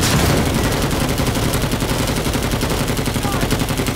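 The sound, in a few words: flamethrower firing in the video game Rising Storm 2: Vietnam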